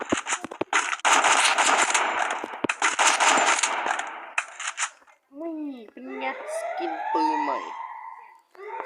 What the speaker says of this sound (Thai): นี่สกิน M4 กากาที่แจกฟี